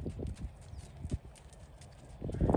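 A Tennessee Walking Horse walks in an indoor arena, its hooves thudding softly and irregularly on the footing, a few louder strikes near the start and end over a hushed background.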